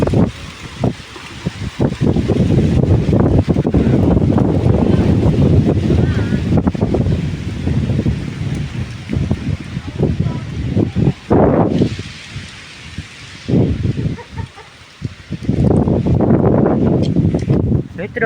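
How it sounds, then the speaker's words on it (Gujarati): A gusty wind blows across a millet field and rustles the leaves. Loud, buffeting wind noise hits the microphone in surges and eases briefly between gusts. "વેટોળો આવ્યો હતો હવે પાંદડા હજી ઉડે જો"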